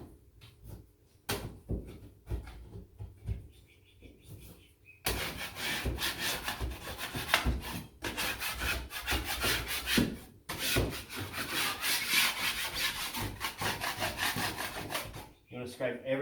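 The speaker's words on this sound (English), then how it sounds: "You want to scrape everything back so nothing's getting stuck." A drywall knife blade, probably a 6-inch, scrapes back a wall patch in loud, repeated rasping strokes, sparse at first and then continuous for about ten seconds.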